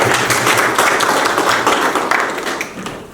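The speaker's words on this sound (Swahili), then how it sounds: "Makofi kwao." Applause from an audience at a Montessori college gathering in Lushoto, a dense, steady wash of many hands clapping close by, tapering slightly toward the end.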